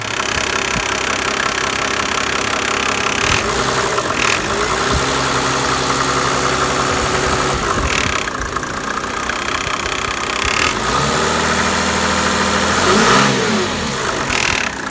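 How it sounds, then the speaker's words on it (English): A 1995 Mercedes-Benz E300 diesel's naturally aspirated inline-six engine runs loudly and steadily throughout, a deep rumbling drone with a few rises in revs, close up and without speech. "It's just a plain old naturally aspirated inline 6."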